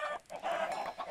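A chicken in Minecraft clucks in a short, nasal burst of two or three quick calls, close and moderately loud with nothing else around it.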